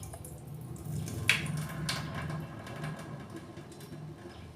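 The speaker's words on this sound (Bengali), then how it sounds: "চালটাকে আমি একটু ধুয়ে নিচ্ছি।" Gobindobhog rice being washed in water in a kitchen, with a steady, close watery swishing and sloshing that runs throughout, with one brief sharper splash near the start and no voices.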